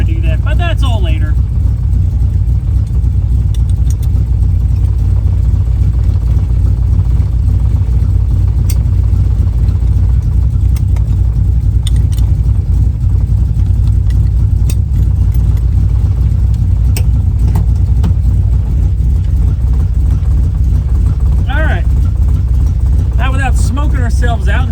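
A track cross build car's engine idles steadily after a timing adjustment, a continuous low rumble close by with slight unevenness throughout.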